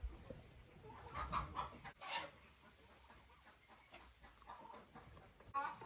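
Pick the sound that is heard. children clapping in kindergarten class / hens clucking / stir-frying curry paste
hens clucking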